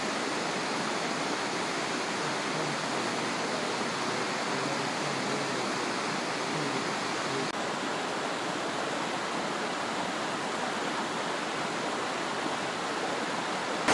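A waterfall roars steadily, a dense, continuous rush of falling water close by with no break or voices.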